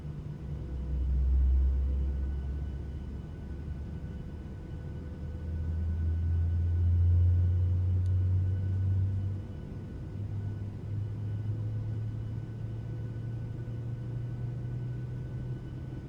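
A low aircraft engine rumble swells and settles on startup at Christmas Island, rising again as the engine spools up into a steady deep drone, with no talking.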